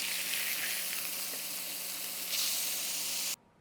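Freshly flipped southwest turkey burgers fry in a pan, giving a bright, steady, close hiss of sizzling fat that swells briefly before cutting off abruptly near the end.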